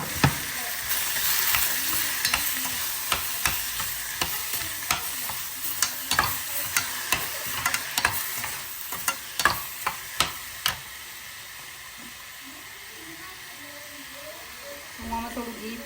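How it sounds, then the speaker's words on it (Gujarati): Onion, tomato and ginger-garlic paste sizzle and hiss in a pan, with repeated sharp stirring clacks of a spoon against the pan in the first ten seconds, then a quieter steady fry with a voice coming in near the end. "ઓનિયન ને ટમાટો ને કાપ્યું હતું બધું એડ કરી દઈશું"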